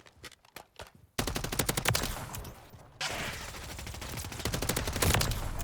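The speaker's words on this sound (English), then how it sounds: "I don't even know who's shooting at me anymore" Rapid automatic gunfire from Call of Duty Modern Warfare 3 gameplay, with dense bursts of close shots, a brief lull near the start, then sustained overlapping fusillades that grow louder toward the end.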